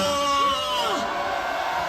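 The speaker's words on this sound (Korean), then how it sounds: "함성 발사" A crowd at an outdoor political rally roars and shouts, with a loud drawn-out yell that swoops in pitch early on before settling into a sustained mass of cheering voices.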